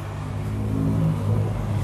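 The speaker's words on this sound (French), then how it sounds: "je suis au bord d'une route très passante" Steady low rumble of heavy traffic on a very busy roadside, a continuous drone of passing cars with no distinct individual events.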